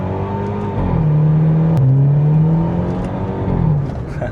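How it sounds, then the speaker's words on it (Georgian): An Audi car accelerating, its engine note rising in a steady loud drone that climbs in pitch, holds, then eases off, heard from inside the cabin with no talk. "ეს უბრალოდ აჩქარება აქვს ამ მანქანას ესეთი"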